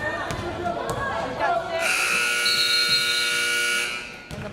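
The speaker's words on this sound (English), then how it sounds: "And the buzzer will sound." Long electronic buzzer blares for about two and a half seconds at the end of the first half of a girls high school basketball game, loud over gym crowd noise and commentary.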